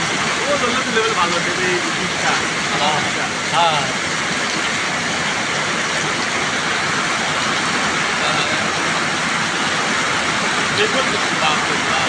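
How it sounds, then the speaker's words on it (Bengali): Very heavy rain pours down in Rangpur, Bangladesh, a dense, steady roar that fills the whole stretch without letup, with a few faint scattered sounds riding on top. "রেকর্ড পরিমাণে বৃষ্টি।"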